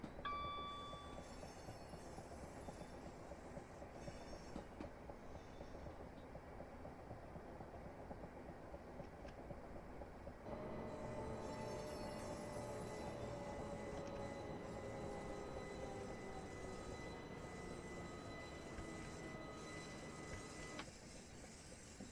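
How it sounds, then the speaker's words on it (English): A train coasts along a station platform on the Chatham Main and Medway Valley line from Strood to Tonbridge, with a continuous low rumble and rail noise, faint whines and a shift in tone partway through, no talk. "I'm letting the train coast to the end of the platform here"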